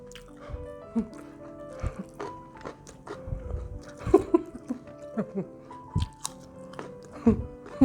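Grilled Isan sausage eaten with pickled shallots, pickled cucumber, fresh ginger and fresh chilies, heard as close, wet chewing and biting with occasional crunches and slurpy mouth sounds, irregular and up front.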